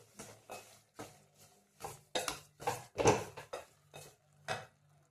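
Spoon scraping and clinking against a pan while sugar is stirred into carrot halwa, a run of irregular close knocks and scrapes with short pauses between them.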